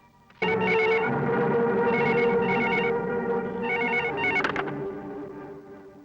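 A telephone suddenly starts ringing, its bright electronic trill repeating in quick bursts, loud and close, then fading slightly toward the end.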